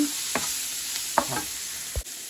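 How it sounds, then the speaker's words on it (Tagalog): Sliced onions go into hot chicken oil tinted with annatto, frying with a gentle sizzle while a utensil scrapes and stirs in a few distinct strokes, close by. "ilagay ko na ang, ang sibuyas dito sa chicken oil na may nato"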